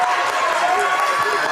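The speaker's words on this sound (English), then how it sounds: "Scott City crowd up on their feet." Volleyball crowd in a gym on their feet cheering during a tournament match, a loud sustained roar with a commentator talking over it.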